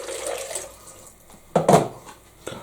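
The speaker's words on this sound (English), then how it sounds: "Drop another bit of water in just to wash them out." Water pours into a soup pot of stock and lentils to rinse them out, a close splashing run followed by a few louder splashes and a short slosh.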